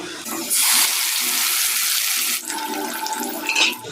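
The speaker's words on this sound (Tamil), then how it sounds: "மிக்சி ஜாரை கழுகி அந்த தண்ணியும் சேர்த்துக்குவோம்" Rinse water from a mixer jar is poured into a pan of whole fish curry cooking with onions and masala paste, a loud rushing splash that gives way to a softer trickle and sizzle.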